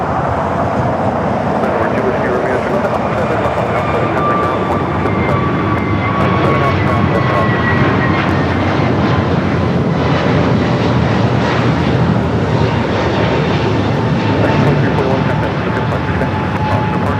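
Airliner taking off at Los Angeles LAX, a loud, steady jet roar that fills the whole stretch with a slowly shifting whine. No one speaks over it.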